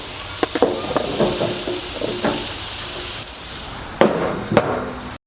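Big-cut squash grills on a barbecue grate with a low sizzle, broken by a few sharp taps and scrapes of tongs or a spatula against the metal, close and fairly loud.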